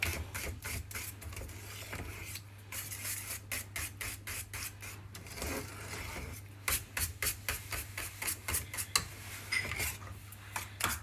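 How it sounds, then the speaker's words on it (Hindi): A whisk scrapes and clicks rapidly against a pan while mixing chocolate sauce over medium heat, giving repeated short metallic taps in bursts over a low steady hum. "और मैं इसको विस्कर से मिक्स कर लेती हूँ।"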